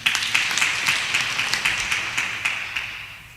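A church congregation at a Kikuyu-language service claps steadily in a fairly close, even rhythm of sharp claps, tapering slightly toward the end.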